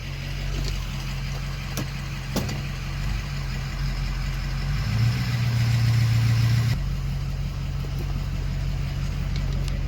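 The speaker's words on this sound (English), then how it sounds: "Even just backing out of the driveway, you can hear the vanes opening and closing" A 2006 Ford F350 pickup with the 6.0 diesel backs out of a driveway, its engine idling low and steady while the turbo vanes whirr and shift, rising briefly mid-clip before settling back, with no talking.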